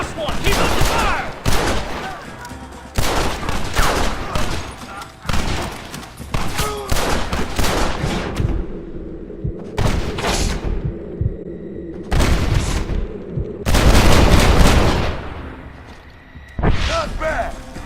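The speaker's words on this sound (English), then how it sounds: "Keep up the fire!" Repeated gunfire in Red Dead Redemption, loud sharp shots and bursts in uneven clusters with short lulls, close and punchy, while voices call out among the shooting.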